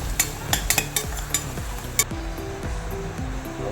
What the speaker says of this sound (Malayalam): എല്ലാം കൂടെ നന്നായിട്ടൊന്ന് മിക്സ് ചെയ്ത് ഒന്ന് കുക്ക് ചെയ്തെടുക്കാം.